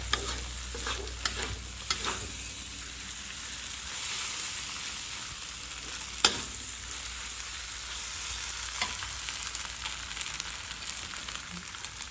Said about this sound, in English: Cook until the eggs cook well.